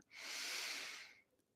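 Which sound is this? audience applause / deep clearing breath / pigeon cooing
deep clearing breath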